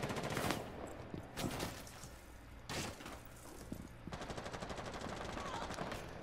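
Rapid automatic gunfire from a Rainbow Six Siege match, loud bursts of shots and sharp cracks coming in clusters, with a sustained rattling stretch near the end.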